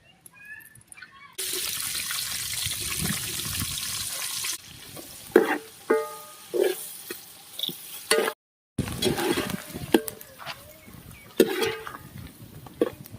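Onions frying in oil for a village-style Hyderabadi chicken dum biryani: a loud hiss bursts up, then settles into uneven crackling with clanks of a utensil and a short silent gap.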